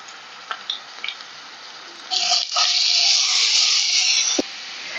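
Green chilies and ginger garlic paste hit a hot pan for a chicken curry, starting with a few faint pops before a loud, steady broadband sizzle takes over for several seconds, briefly interrupted by a clatter near the end.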